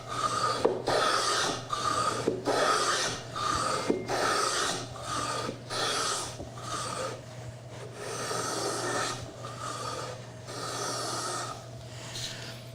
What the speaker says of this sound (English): beading tool, and that allows you to go in and cut a neat little bead